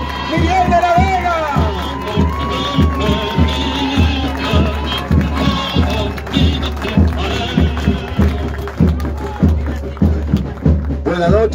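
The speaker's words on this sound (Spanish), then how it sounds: "fuerte el aplauso para recibirlo, Miguel de la Vega" A large crowd roars at a 2023 election campaign rally as a speaker is welcomed, with a steady rhythmic pounding beat running beneath continuous loud cheering and voices.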